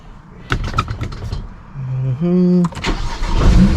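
A 335i car engine cranks with a rhythmic whirring starter, then catches and revs up loudly into a running idle, with a person talking nearby.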